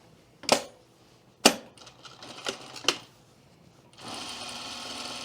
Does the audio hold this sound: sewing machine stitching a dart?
yes